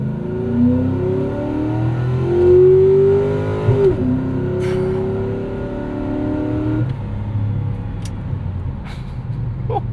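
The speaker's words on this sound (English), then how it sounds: "Let's put this into first gear and see how it gets off the line" A 2003 Mercury Marauder V8 sedan pulls away hard from a standstill, its engine note climbing in steady harmonics, dropping sharply at an automatic upshift, then rising again; loud, close and continuous, with no talk over it.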